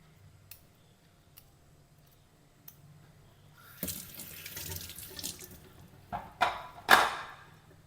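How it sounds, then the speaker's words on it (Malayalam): Cassava is washed by hand: a few faint ticks, then running water splashes in bursts, with sharp sloshes near the end. "അപ്പോൾ നമുക്കതൊന്ന് കഴുകിയിട്ട് ചെറുതായിട്ടൊന്ന് നാരുകളൊക്കെ ഒന്ന് കളഞ്ഞെടുക്കാം"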